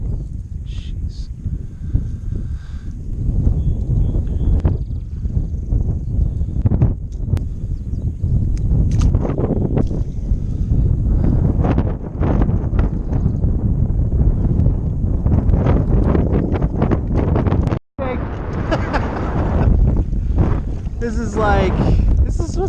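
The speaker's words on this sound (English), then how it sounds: "The wind just kicked up a lot, actually." Strong wind buffets a kayak on the California Delta, roaring loud and gusty against the microphone throughout, with water slaps and brief bursts of a voice under the rush.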